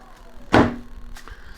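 A Tesla Model Y car door swings shut in one solid, close thud with a short ringing tail, alone and without talk.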